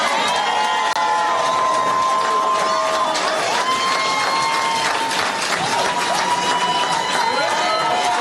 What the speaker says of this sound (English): Crowd loved that line.